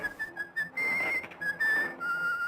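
Mickey Mouse whistles a bright, wavering tune in an early synchronized Disney cartoon, steady tonal notes sliding between pitches over thin vintage film hiss, with no talking.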